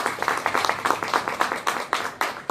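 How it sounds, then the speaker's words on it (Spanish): Church congregation clapping together in a steady, rhythmic beat of loud, near claps at a Ministerios Elohim inauguration service, continuous through the moment. "Denle un aplauso a Cristo, fuerte ese aplauso"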